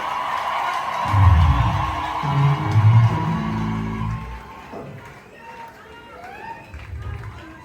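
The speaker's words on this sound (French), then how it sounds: "Les applaudissements et cris de joie." Church congregation at a Sunday service applauding and shouting with joy, loud crowd cheers and whoops swelling then easing, mixed with voices and a lively room din.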